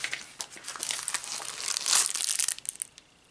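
Plastic packaging crinkles and crackles continuously during a Canon EOS M100 camera unboxing, building to a louder crumpling burst before trailing off, close to the microphone.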